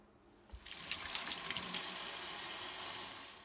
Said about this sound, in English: we gotta make sure we wash our hands before we get started